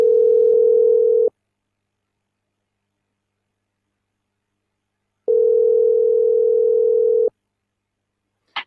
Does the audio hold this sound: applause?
no